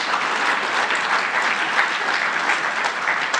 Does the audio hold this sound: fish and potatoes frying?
no